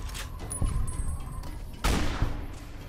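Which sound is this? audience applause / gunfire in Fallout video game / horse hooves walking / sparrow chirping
gunfire in Fallout video game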